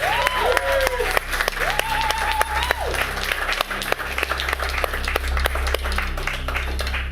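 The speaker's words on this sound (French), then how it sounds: "Acclamer le Seigneur ce matin" A congregation at a water baptism service applauds steadily. Whoops and sung or shouted calls rise over the clapping, which carries on unbroken.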